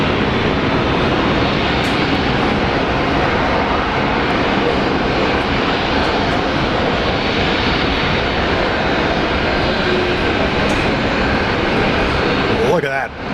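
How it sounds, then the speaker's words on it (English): An Air New Zealand airliner takes off at Brisbane Airport, a loud, continuous engine roar that holds steady throughout, closely recorded and fading only at the very end. "takeoff Air New Zealand."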